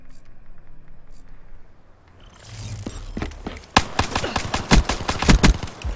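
Rapid gunfire erupts in a Black Ops 3 Gun Game match, sharp repeated shots and bursts following a quiet opening, loud and close in the mix.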